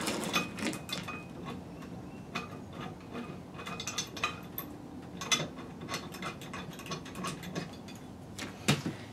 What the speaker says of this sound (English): Put in our two caliper bracket bolts.